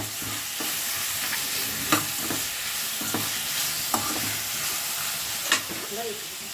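Chicken thokku with tomato, salt and turmeric sautéing in a pan, a steady close sizzle and hiss with a spatula scraping and knocking against the pan every second or so.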